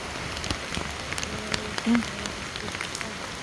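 Heavy rain pattering steadily on surfaces outdoors, a dense close patter with scattered louder drops throughout and a brief faint voice in the middle.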